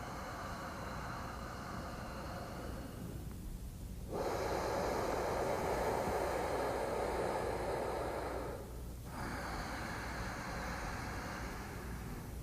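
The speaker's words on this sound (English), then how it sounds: "we want to create a deep, full, resonant sound in the back of the throat." Ujjayi yoga breathing: slow, deep, resonant rushing breaths through the back of the throat, one long inhale-exhale cycle after another, close and steady with brief pauses between them.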